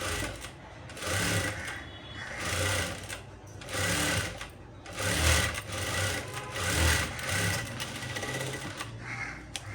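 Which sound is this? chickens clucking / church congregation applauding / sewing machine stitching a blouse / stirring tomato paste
sewing machine stitching a blouse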